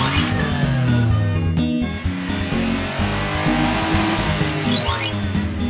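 An SUV drives by close and loud, its engine rising and shifting as it accelerates, with a brief squeal of tires.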